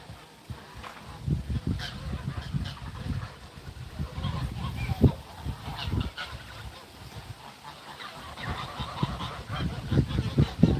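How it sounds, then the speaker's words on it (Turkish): A flock of geese eating clover on a farm honk and cackle repeatedly close by, with irregular overlapping calls and some outdoor background noise. "şuradaki kaz grubu yonca yiyor arkadaşlar bakın"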